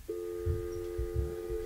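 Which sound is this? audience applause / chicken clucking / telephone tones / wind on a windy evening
telephone tones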